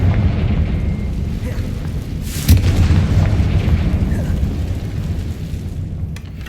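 A fiery Confringo spell blast in the Hogwarts Legacy video game: one deep boom lands midway through, over a steady low rumble that carries on to the end.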